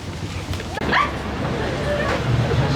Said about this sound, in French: Et c'est quoi ce chien?